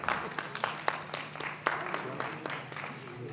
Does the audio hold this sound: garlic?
no